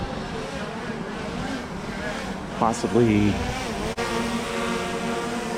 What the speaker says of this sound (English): There's a drone right there.